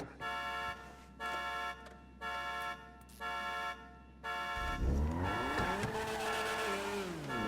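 A car driven in the GTA V video game, its engine pulsing in short regular bursts before revving up steadily into a sustained, rising roar, loud and close.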